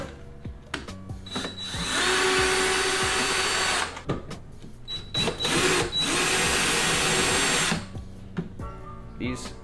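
A power tool fitted with a socket whirs in two sustained bursts, with short starts before and after, removing 8mm nuts from a MK6 VW Golf R tail light. The sound is close and moderately loud between quieter clicks and handling noises.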